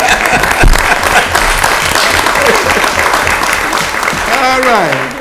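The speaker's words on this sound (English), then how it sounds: "round of applause." Applause rises from the audience at a parish council meeting, loud steady clapping with voices speaking over and through it.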